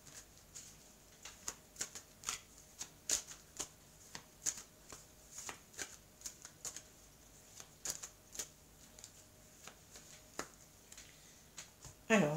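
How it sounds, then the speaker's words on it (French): Mirror oracle cards shuffled steadily by hand, a long run of crisp, evenly spaced papery flicks, close and quiet, with no voice over them. "je vais prendre donc les cartes de l'oracle des miroirs pour voir la suite"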